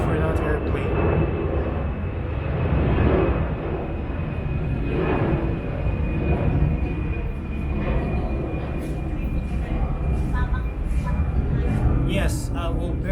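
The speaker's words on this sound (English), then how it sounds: "Let's wait for that airplane." A large airplane passes overhead as a broad, steady roar that holds for the whole stretch, with a person talking over it.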